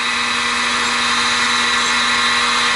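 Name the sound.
single flute indexable end mill cutting on milling machine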